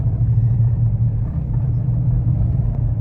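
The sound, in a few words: semi-truck and car traffic on a highway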